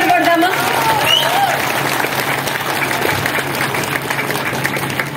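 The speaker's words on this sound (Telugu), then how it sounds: "సో ఒకసారి గట్టిగా చప్పట్లు కొడదామా." An audience at a party workers' welfare rally in Nellore City breaks into loud, sustained applause, with crowd voices mixed in beneath the steady clapping.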